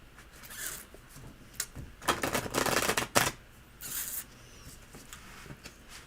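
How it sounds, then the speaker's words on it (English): Halloween tarot cards being shuffled in fitful bursts, a few brief riffles and a longer rustling run in the middle, close and fairly quiet with no talk over them. "You go, shuffle. And we're using the Halloween tarot."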